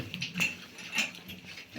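Piglets grunting and squealing in short, close bursts, a few quick snorts over a faint background.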